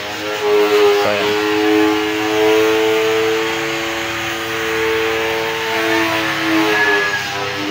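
An Isuzu C240 truck engine runs with a steady, tonal mid-pitched drone whose level swells and eases gently in a few mild revs, close and alone throughout.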